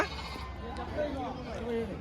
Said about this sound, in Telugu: చిన్నపిల్లల గొర్రెలు అయితే ఉన్నాయి